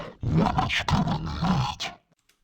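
A deep, growling pitched-down hardstyle vocal layer, low and rough like a beast's snarl, running continuously for about two seconds before cutting off into silence.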